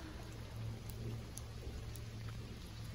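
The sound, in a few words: rain falling outdoors in Taiwan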